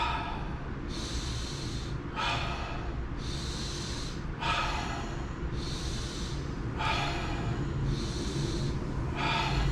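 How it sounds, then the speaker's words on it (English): Slow nasal inhales in a breathwork exercise, a steady run of airy, snorting breaths through the nose, each about a second or two long with short gaps, close and clear, no talking. "2-second nasal inhale in."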